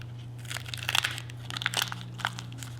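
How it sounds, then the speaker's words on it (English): Masking liner is peeled back from a freshly painted computer mouse, a close series of crinkling, crackling tugs in short irregular bursts. "Now it's time to peel back the liner and see what it looks like"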